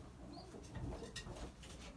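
Belgian racing pigeons coo softly in a loft, low murmuring calls blending with faint rustling and patter, no voices over them.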